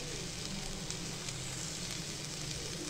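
Ridge gourd and lentils sauté in a pan for a Maharashtrian dal dodka sabzi, giving a soft, steady sizzle with faint crackles throughout, low and close with no voices.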